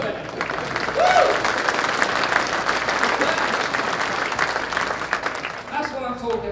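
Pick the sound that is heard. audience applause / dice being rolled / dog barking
audience applause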